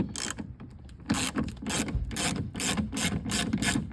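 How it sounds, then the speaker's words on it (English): A ratchet wrench loosens 10 mm airbag bolts inside a BMW E46 sedan door, giving repeated bursts of rapid clicking in a steady rhythm, close and fairly loud, with no voice over it. "so now you can unbolt the airbag. It's 3 10 millimeter bolts."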